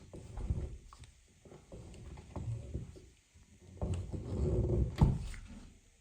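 A portable travel door stopper lock has its wedge screw tightened, giving a series of soft plastic and metal clicks, creaks and scrapes in uneven bursts, fairly quiet and close, with no talk.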